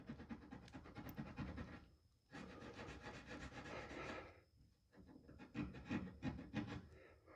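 Rust on a Toyota Tacoma's paint being roughed up by hand, a steady close scraping and rasping in uneven strokes with short pauses between bursts.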